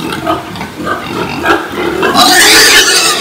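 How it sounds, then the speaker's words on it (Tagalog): Large pigs grunting and snorting close by on a farm, several rough calls in a row, growing louder and more agitated toward the end. "Ang lalaki na ng baboy namin."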